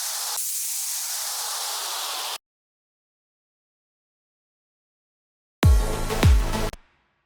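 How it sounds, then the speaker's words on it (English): A bright hissing downlifter noise sweep in a darksynth track falls away over a couple of seconds, then after a pause a short, dense descending burst of noisy synth texture. "Let's also add some down lifters."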